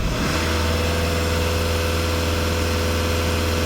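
A VW or Skoda car engine idles steadily and loudly up close, a constant low rumble with an even mechanical pulse and no variation in speed.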